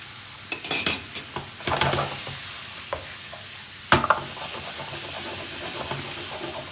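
A vegetable and coconut curry simmers in a pan with a steady steamy hiss and soft bubbling, broken by a few brisk stirs and utensil knocks.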